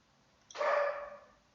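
A single short dog bark sounds from inside a laundry room, one sharp, moderately loud yelp with a fading tail against near silence.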